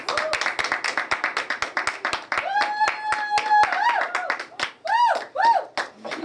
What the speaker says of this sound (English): give him a round of applause as he comes to the podium